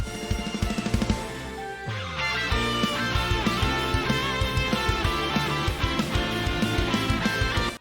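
Full anime-style battle theme, loud and dense from the start, with driving drums and a harmonized electric guitar lead over layered orchestral parts including French horns; a brief break near two seconds, then the full arrangement resumes.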